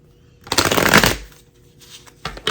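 A deck of tarot cards being shuffled by hand, riffling bursts close to the mic, one long flurry followed by quieter shuffles and a final short burst.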